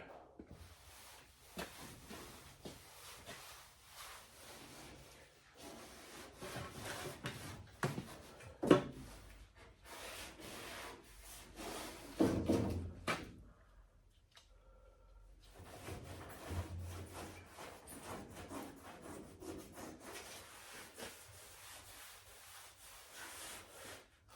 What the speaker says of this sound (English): now we're going to give it a good wipe down with acetone.